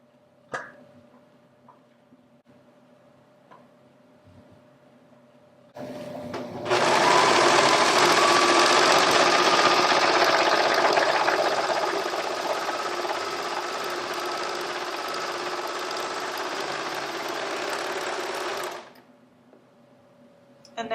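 A serger runs along a seam edge, trimming and finishing it in one continuous loud whirring burst after a few faint clicks, then stops.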